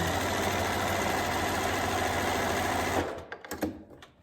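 A sewing machine seals a basting stitch on a skirt made from neckties, whirring steadily and close for about three seconds before stopping, followed by a few light handling clicks.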